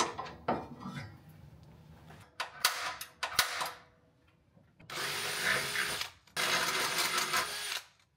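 Ratchet and hand tools clicking and clanking while bolts are tightened under the dash of a 1998 JDM right-hand-drive Integra Type-R, with scattered sharp clicks followed by two long bursts of steady ratcheting, close and moderately loud.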